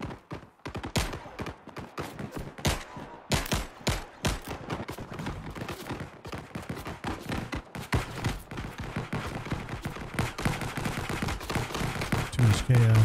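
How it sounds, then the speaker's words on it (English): Rapid video-game gunfire rattles steadily through a chaotic Galacticverse PC firefight, with dense bursts of sharp shots and fusillades repeating close by for the whole stretch, under occasional talk. "Yep, they're shooting at me again."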